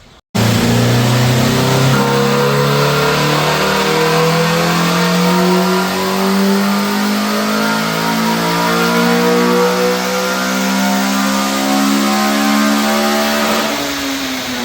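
A Honda Integra engine on a dyno, running on 91 fuel, revs hard and climbs steadily in pitch through a long sustained pull, loud and close, ending with a brief drop as the throttle lifts.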